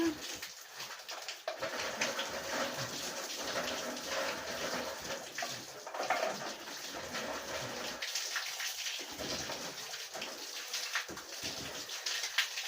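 Water from an improvised outdoor shower splashes steadily and fairly faintly, a constant hiss with scattered drips, while children's voices call out now and then.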